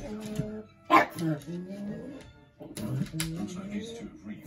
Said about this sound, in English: Winnie, no! Winnie! Winnie! No, please don't bark at the telly!